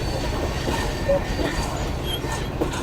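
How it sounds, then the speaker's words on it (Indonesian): A train runs at night, rounding a long curve and slowing down, heard as a loud, steady close rumble of rolling wheels with a faint clickety-clack throughout. "Kita berbelok sangat jauh dan kereta mulai melambat."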